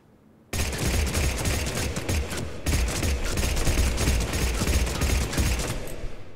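The Blood Pack Punisher, a twin-barrelled gun in the Mass Effect 3 Firefight DLC, fires full auto in a loud continuous rattling stream for about six seconds, with one brief break partway through.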